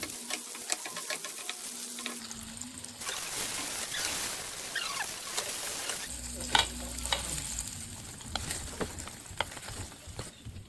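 Paneer pieces fry in a pan with a steady, close sizzle. Stirring scrapes and small pops run throughout.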